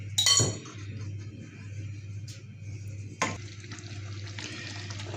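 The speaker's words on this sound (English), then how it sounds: "Bring it up to a simmer." A thick mushroom cream sauce simmering in a pan makes a low, quiet bubbling hiss, broken by two sharp clinks of a utensil against the cookware near the start and partway through.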